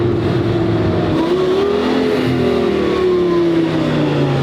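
An old Lexus GX 470 SUV rolls in with a steady mid-pitched engine note that rises and shifts gears over several seconds, continuous and fairly close, with no talking.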